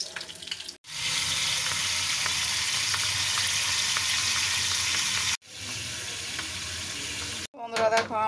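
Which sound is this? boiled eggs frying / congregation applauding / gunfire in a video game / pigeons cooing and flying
boiled eggs frying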